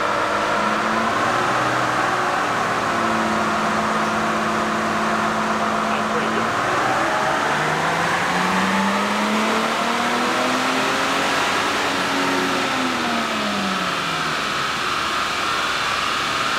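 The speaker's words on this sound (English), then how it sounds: "take the pedal and gradually go to full throttle and hold it there" A car on a hub dyno revving up under full throttle, the engine tone climbing in long sweeps and then easing off, loud and close with a steady broadband roar.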